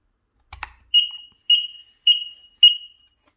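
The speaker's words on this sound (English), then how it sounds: "you will hear beeping sounds." A couple of quick clicks as the back cover of a Honeywell XC70 carbon monoxide detector slots in, then four short, high-pitched electronic beeps evenly spaced about half a second apart, clear against silence.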